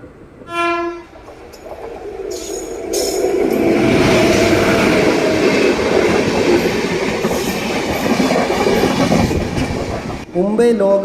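Netravati Express, the Thiruvananthapuram Central to Mumbai Lokmanya Tilak train, thunders past at close range with a sharp horn blast, then a sustained loud roar and rumble of wheels and coaches before abruptly fading.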